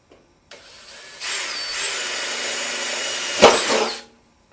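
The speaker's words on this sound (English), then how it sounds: "So I'm going to drill 2." A power drill whirs up, runs steadily at high speed, then bites briefly with a louder grinding burst while drilling during gutter installation, before winding down and stopping.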